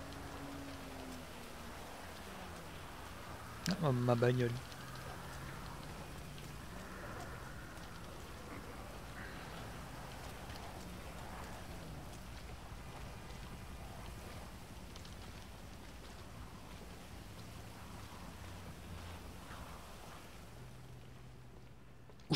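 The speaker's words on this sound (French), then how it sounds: "Il pleut tout le temps dans cette ville." Steady rainfall in Grand Theft Auto V, a soft continuous hiss lasting throughout, briefly broken early on by a short tonal blip and a voice speaking.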